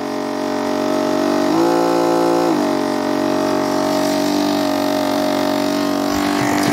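A Gerard Morin pump motor running on 5 volts gives a steady electric hum with tonal whine, briefly rising in pitch midway before settling back to a constant drone.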